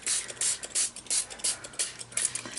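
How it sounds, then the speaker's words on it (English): Clean water misted from a hand spray bottle onto cardstock, a series of about a dozen short, close hissing bursts in a quick, uneven rhythm. "I'm going to spray it with water first."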